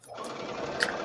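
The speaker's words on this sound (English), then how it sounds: "Now I hear the sewing machine." A sewing machine stitches fabric scraps, a brief steady mechanical whir at moderate loudness lasting about a second with no talk.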